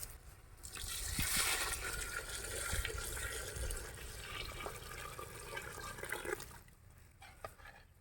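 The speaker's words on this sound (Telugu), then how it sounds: "ఇప్పుడైతే వేడి నీళ్ళు పోసుకుంటున్నాం" Hot water pours into a pot of basmati rice for chicken biryani cooked outdoors in a mango orchard. A loud, continuous gushing splash stops abruptly near the end, leaving quieter trickles.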